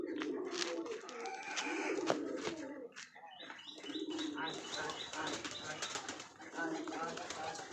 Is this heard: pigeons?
yes